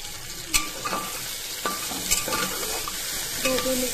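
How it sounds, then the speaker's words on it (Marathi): Capsicum being stirred and sautéed in tomato masala in a pan for fried rice, with a steady soft sizzle and several scraping spoon strokes throughout. "ढोबळी मिरची पण छान परतून घ्यायची याच्यामध्ये।"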